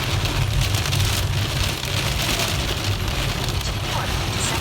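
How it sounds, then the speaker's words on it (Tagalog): Heavy rain pours steadily during a hail storm in Calgary, Alberta, a dense, constant hiss drumming on a surface close by, with a low rumble underneath and no pauses. "Grabe po ang lakas ng ulan."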